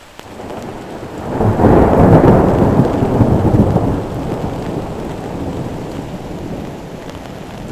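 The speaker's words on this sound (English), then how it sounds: "the thunder you just heard" Thunder rolls through a rainstorm, swelling into a loud low rumble after a second and slowly fading over several seconds while rain keeps falling steadily underneath.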